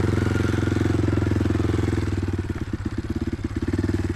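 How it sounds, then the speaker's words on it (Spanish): Motorcycle engine laboring in first gear up a steep, muddy slope in the Chilean Patagonia, a steady close throbbing idle-like chug that turns uneven and lumpy midway as the load changes, loud and alone without talk. "En la pendiente, la moto sube."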